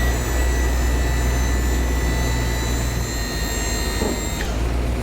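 A junk removal truck's engine runs at a steady idle while its dump bed is raised, a loud continuous drone with high whine and a brief mechanical change near the end.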